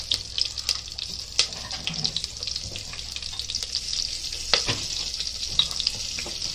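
Green chillies sizzle and crackle in hot oil for palak dal, a steady hiss with scattered pops and light stirring clinks close by.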